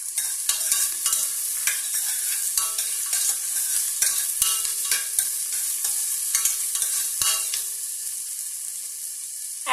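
Dry garam masala spices, cinnamon, cloves and cardamom sautéing with onion in a hot pan, giving a continuous bright sizzle broken by frequent close scraping stirs, steady and loud throughout.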